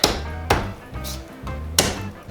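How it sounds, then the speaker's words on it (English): Garlic cloves smashed on a cutting board, three sharp heavy thwacks spaced about half a second to a second apart, close and loud. "when you smash the garlic like that, it's supposed to release all of its oils and flavor"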